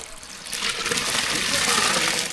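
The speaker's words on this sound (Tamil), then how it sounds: "தண்ணி நல்லா கொதிச்சிருச்சு இப்போ கழுவி வச்ச பருப்பு சேர்த்துக்கலாம்" Washed lentils poured into a pot of boiling water for sambar, a steady close splashing and bubbling rush that swells and holds for a couple of seconds.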